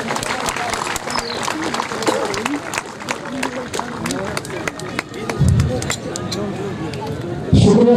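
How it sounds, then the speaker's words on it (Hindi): Applause and crowd noise at the closing ceremony of the NTCA T-10 cricket league final, 2018, with dense clapping running steadily under an announcer's amplified voice and swelling briefly near the end. "तालियां बजनी चाहिए यार।"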